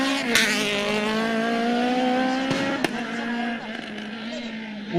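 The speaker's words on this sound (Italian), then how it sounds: "la pregevolezza migliore proprio di questo motore è quello di girare gli alti regimi di giri" A rally car at the Rally dei Laghi 2023 special stage screams at high rpm, a sustained loud engine note holding steady then dropping as the throttle lifts, with a sharp crack of exhaust detonation on release.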